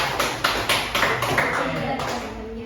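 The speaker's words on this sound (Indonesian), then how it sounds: "Oke, aplaus untuk kelompok 2." Classroom applause from schoolchildren for a presenting group, a steady patter of many hands clapping at close range, dense and continuous throughout.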